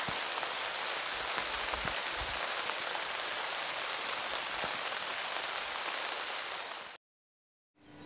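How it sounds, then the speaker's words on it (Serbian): Gentle summer rain falls steadily after a hot spell over a garden, a soft even hiss of drops on surfaces that continues without a break, then cuts off abruptly near the end. "I nakon ovih vrelina iznenada divna i nežna kiša."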